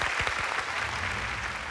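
A studio audience on a Thai code-breaking game show claps loudly and steadily in a brief burst of applause, with no talking over it.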